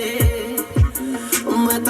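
Music with deep, punchy bass thumps plays through the Hertz speakers of a Maruti WagonR Sports car, which has no subwoofer. The sound is steady and moderately loud, with no talking.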